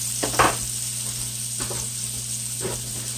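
Grouper fillets frying in hot oil in a pan just after being flipped, giving a steady close sizzling hiss broken by a few brief clattery bumps near the start and end.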